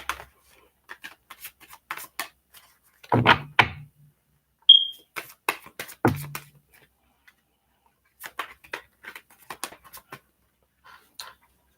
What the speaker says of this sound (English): okay, so I'm shuffling for you, Golden Queen